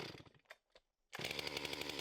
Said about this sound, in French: couper les extrémités à l'aide de sa grande tronçonneuse